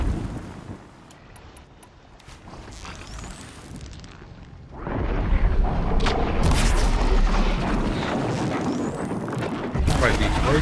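After a quiet stretch, a heavy video game explosion in Horizon Zero Dawn booms and becomes a loud, sustained roaring rumble that fills the rest of the moment.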